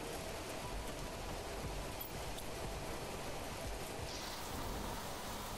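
Heavy rain falling in The Planet Crafter, a steady dense hiss of downpour that stays even and close throughout, with no voices.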